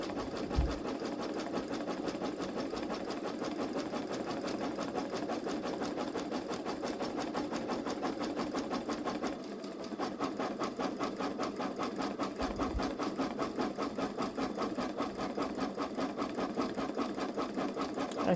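A Babylock Solaris embroidery machine stitches a letter onto a T-shirt, its rapid, even needle chatter running steadily and close throughout, with one brief dip midway.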